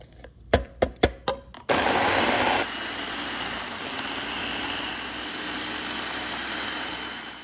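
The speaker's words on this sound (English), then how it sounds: "Then we're just going to blend it up." A kitchen blender whirs loudly and steadily, blending hot peppers with pink Himalayan salt into a hot sauce, after a few sharp clunks as it starts.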